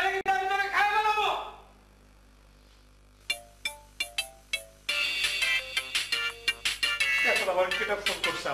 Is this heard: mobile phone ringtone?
yes